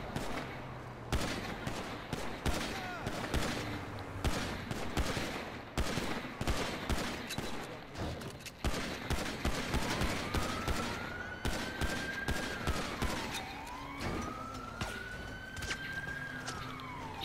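Rapid bursts of gunfire crack repeatedly in a Grand Theft Auto police roleplay session, loud and rhythmic, while a police siren wails and sweeps up and down over the shooting in the second half.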